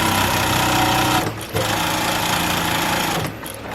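An industrial sewing machine stitches along the edge of fabric with a fast, loud, continuous mechanical whir, stopping briefly twice before running again.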